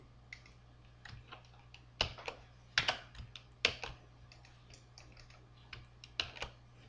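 Keys pressed on a computer keyboard while working in 3DS Max, a few sharp clicks and short bursts of tapping spread unevenly over several seconds, close and fairly quiet over a low steady hum.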